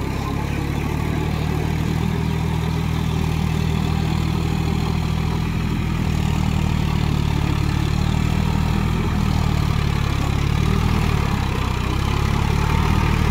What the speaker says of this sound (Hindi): পাওয়ারটেকে একটু এমনি হাঁটনি কম, 1500 RPM, এর থেকে আর কত জোরে হাঁটবে।